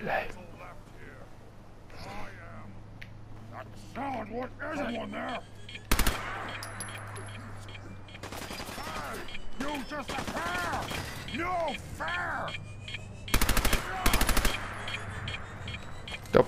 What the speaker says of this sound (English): Oh wait, I've got a machine gun.